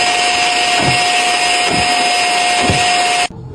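A TIXX vacuum cleaner runs loud and steady with a whining motor tone, a few dull thumps of suction pulses, then cuts off abruptly near the end.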